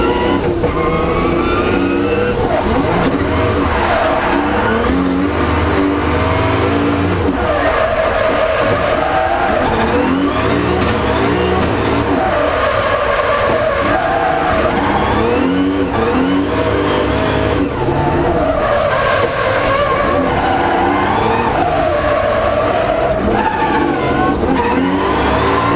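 A car drifting with its engine revving hard and tyres skidding, a loud, continuous roar of rising and falling revs with tyre scrub running the whole way through.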